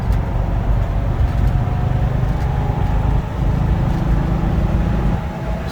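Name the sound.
classic car engine revving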